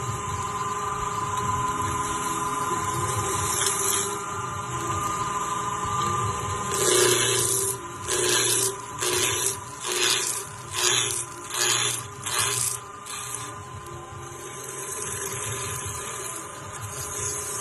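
Wood rough-turned on a lathe with a round skew chisel, a rhythmic series of about seven rasping scraping cuts over a steady motor whine, close and moderately loud.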